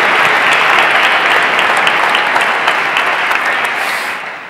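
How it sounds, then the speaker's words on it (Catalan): A room full of people claps steadily, loud and dense, the applause tapering off slightly toward the end. "Un aplaudiment per en Ramon"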